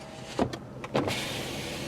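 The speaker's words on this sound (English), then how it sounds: "let's start with the power windows like I normally do" Power window motor on a 2007 Chevrolet Malibu Maxx whirs in two short bursts close by, each a brief electric hum as the glass moves, with a steady low background between them.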